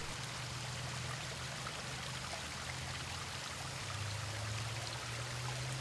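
Mountain stream in Mont-Royal park, Montreal, flowing steadily with a broad, even rush and gurgle of water, continuous and moderately near, with a low hum underneath and no voices.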